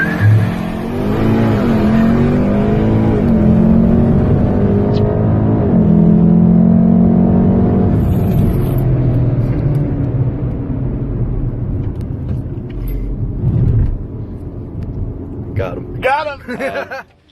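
Mark 7 Volkswagen Golf R, a 2.3 turbo all-wheel-drive car, racing a Ford Focus RS, with loud engine roar and revving rising and falling through the run, a steady drone from inside the car, and voices talking over it.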